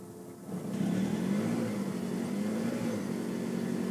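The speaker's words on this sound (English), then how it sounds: "you hold the accelerator down and it'll turn the engine on" A 2009 Toyota Estima Hybrid, a UK-import minivan, has its petrol engine running with the accelerator held down. It gives a steady, fairly loud droning hum that swells in after a brief quieter start and holds evenly throughout.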